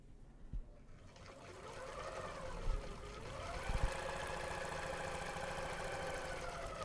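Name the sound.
serger sewing machine stitching fabric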